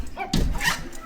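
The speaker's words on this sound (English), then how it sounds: "Sorry, my dogs are crazy." Dogs barking and yipping nearby indoors, a couple of short, loud, excited barks in quick succession.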